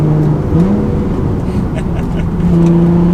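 A Nissan 350Z engine revs and pulls forward, its pitch rising and shifting as it accelerates, loud and near with steady road noise underneath.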